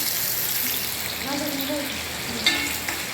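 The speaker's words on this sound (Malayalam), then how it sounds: "അവള് അവിടെ ഓയിൽ ഒഴിച്ചിട്ട് അവൾ സബോള ഇടുന്നുണ്ട്" Onions frying in hot oil for a prawn curry, a steady broadband sizzle with faint stirring clatter and a brief sharp tap near the end, up close with no talking.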